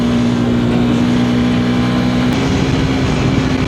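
Steady, loud motor drone of a dirt bike on knobby tires rolling along a street in Belmont Shore, a continuous engine hum with tire rumble and no voices.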